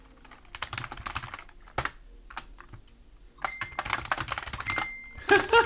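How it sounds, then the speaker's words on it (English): Keys are typed on a computer keyboard in quick irregular bursts of close, crisp clicks, pausing briefly midway before resuming more densely. "I notice your typing is not as loud as it used to be. Did you get a new keyboard"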